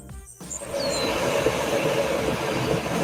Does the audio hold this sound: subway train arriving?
yes